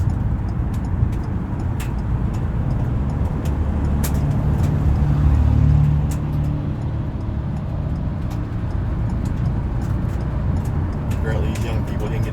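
Cars in a Trump car parade drive along a road, a continuous loud traffic roar with passing engines swelling midway and brief clicks and knocks throughout.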